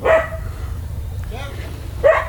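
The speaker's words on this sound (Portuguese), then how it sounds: "O cachorro tá atacando aqui" A dog at a riverside port gives two short, sharp barks about two seconds apart, heard over low rumbling background noise.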